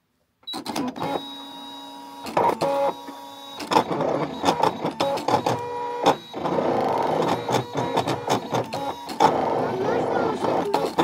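A vinyl cutting machine slices flocking vinyl for a football kit, its motor whirring and chattering in stop-start bursts up close over the whole stretch, with a voice speaking over it.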